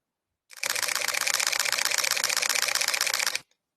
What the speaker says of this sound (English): older shutter mechanism.